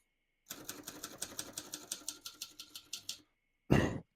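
Steady run of crisp mechanical keystrokes on a 1969 Adler Tippa S manual typewriter at an even rhythm for about three seconds, a short pause, then a louder clack like a carriage return.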